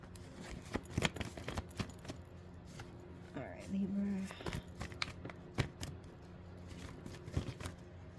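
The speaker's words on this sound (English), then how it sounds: "Because I think like 6 cards fell." Tarot cards slap and flutter as they fall and are gathered back up, a close sequence of papery snaps, shuffles and soft scrapes with a brief murmur of talk partway through.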